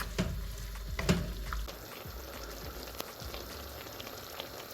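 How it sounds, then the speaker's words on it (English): Minced meat and wine being stirred in a pan give a soft, low sizzle with a few scraping stirs near the start, quiet and without speech. "we're going to keep stirring this because we don't want anything to stick"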